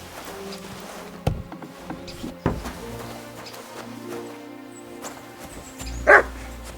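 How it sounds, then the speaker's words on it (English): A dog barks in the medieval world of the video game Kingdom Come Deliverance 2, a few short yaps at a middle distance that stand out against a busy background of ambient game sound. "barking."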